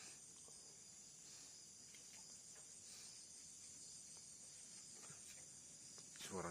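Crickets chirp steadily through a quiet night scene, a dense high-pitched trill that stays constant and fairly faint, with soft rustling and a brief louder scuff near the end.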